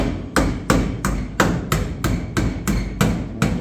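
Sharp metallic hammer blows on car body metal ring out at a steady rhythm, about ten strikes, loud and close.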